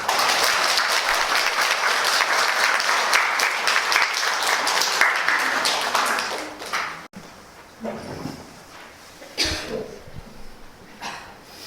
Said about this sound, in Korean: 우리 교수님을 맞이하면서 힘찬 박수를 좀 드릴까요?